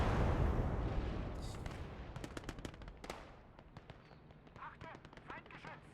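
An anti-tank gun fires in a Normandy tank battle video game played from a Panther tank: a heavy boom decays at the start, followed by a run of sharp, scattered cracks at varying distance.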